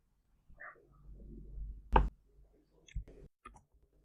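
A few crisp, close computer mouse clicks in a quiet room, arriving as single sharp taps spaced about a second apart.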